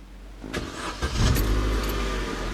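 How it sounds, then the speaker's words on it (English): A car engine cranks briefly and catches, rising into a steady running rumble close by, with no talking. "Start the engine."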